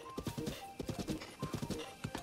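Horse hooves clip-clopping in the video game Zelda Breath of the Wild, a quick, steady series of close hoofbeats at a trotting rhythm, faint overall.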